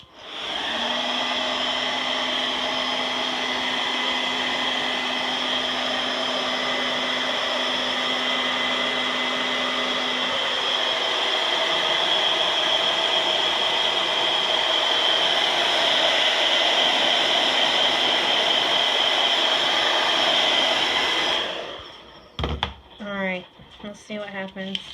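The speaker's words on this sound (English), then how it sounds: "I have my hairdryer hooked up over here." A hair dryer blows warm air in a loud, steady close-up whoosh with a constant motor whine for over twenty seconds, then clicks off and leaves brief rustling.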